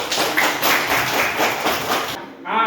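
Applause for a student during an online class, a steady patter of many hands clapping together for about two seconds before cutting off abruptly.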